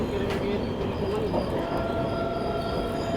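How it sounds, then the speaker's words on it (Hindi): The Hyderabad–Nizamuddin Dakshin Superfast Express passes nearby as a steady, loud rumble of rolling wheels and carriages, with a faint whistle-like tone and bird coos in the background. "सामने से जाती हुई हैदराबाद निज़ामुद्दीन दक्षिण सुपरफास्ट एक्सप्रेस"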